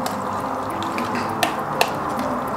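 Egg muffin mixture with cooked vegetables poured and mixed, a close wet liquid pouring and dripping sound with a couple of small sharp clicks, no talk.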